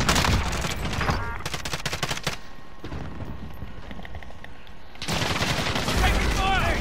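Rapid bursts of automatic gunfire in a Warzone firefight, loud and dense at the start and end with a quieter stretch of scattered shots between, mixed with game effects.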